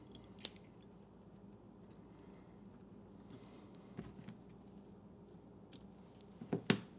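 Small scissors snip off excess thread and material while a Hogan's Yuba Pupa fly is being tied, giving a few faint, sparse clicks and snips spread over a quiet bench background.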